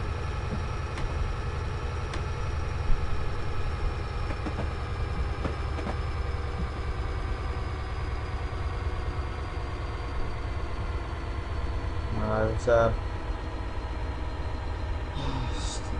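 Train engine working hard under throttle as it climbs a steepening hill on the Settle to Carlisle line in Train Simulator, a steady low droning rumble running throughout with a few faint clicks and brief rattles near the end.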